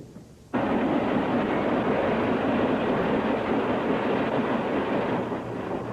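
A train rushes past with a loud, steady broadband roar that starts abruptly and holds for several seconds before easing slightly, heard alone with no talk.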